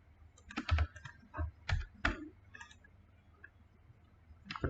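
Irregular bursts of keystrokes on a computer keyboard while typing code, clusters of crisp clicks separated by short pauses.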